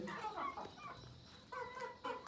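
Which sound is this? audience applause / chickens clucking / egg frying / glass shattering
chickens clucking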